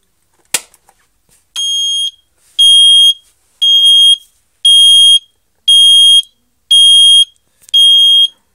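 An AVISS EVAC 2b type 2b fire alarm sounds after a sharp click, giving a series of regular piercing electronic tones, each about half a second long with short gaps, loud and close.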